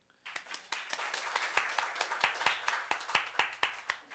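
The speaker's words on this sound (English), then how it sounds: "Round of applause, I think." A council meeting's round of applause: a small group clapping in a room, distinct individual claps starting abruptly and continuing in a loose, uneven rhythm, clear and fairly close.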